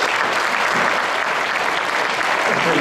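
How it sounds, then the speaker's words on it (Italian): An elegantly dressed theatre audience at an Italian live show gives a dense, sustained round of clapping, loud and continuous from start to finish, with faint voices mixed into the applause. "accogliamoli con l'applauso che solo voi, platea di straordinaria eleganza,"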